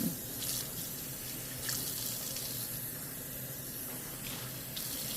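A curly wig is rinsed under a running tap at a sink, a steady close stream of water splashing through hair with slight shifts as it is moved, fairly quiet.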